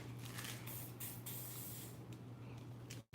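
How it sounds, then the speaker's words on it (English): A can of Rust-Oleum spray paint fires through a snap-on adapter in a steady, close hiss lasting about three seconds, broad and loud throughout over a low steady hum, then cutting off abruptly at the end. "and then you'd spray."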